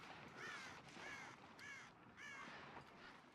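Several crows caw in The Long Dark video game, a series of harsh, repeated calls over a steady hissing background, moderately close.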